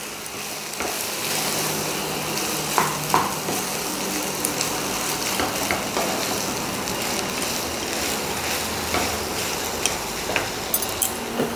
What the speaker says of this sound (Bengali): ভালোভাবে পেঁয়াজ রসুনের সঙ্গে আলুটাকে কষিয়ে নিতে হবে।